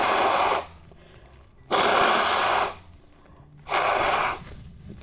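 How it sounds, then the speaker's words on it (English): Someone blows their nose hard three times, each a loud, broad burst of about a second with quiet pauses between. "Oh god, I need to blow my nose."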